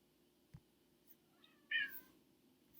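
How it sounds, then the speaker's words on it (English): A pet cat gives a single short meow, faint and somewhat distant in a quiet room, with a few soft knocks around it. "You hear Simon in the background meowing for attention"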